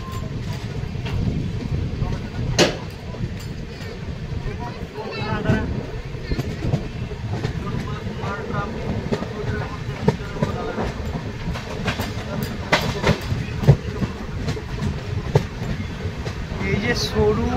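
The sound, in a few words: passenger train running near the Jaldhaka river bridge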